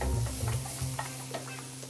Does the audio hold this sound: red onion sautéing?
yes